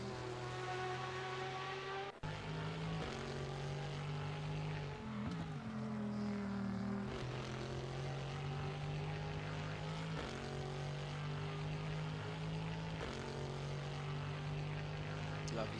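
A Corvette race car engine in a sim racing game at Monza, a steady loud drone with strong low harmonics and a pitch shift partway through as the car heads toward Ascari.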